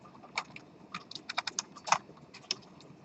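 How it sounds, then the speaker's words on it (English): Keys on a computer keyboard are typed in short irregular bursts, crisp clicks close up with brief pauses between strokes and no talking. "but I'm going to type it in again."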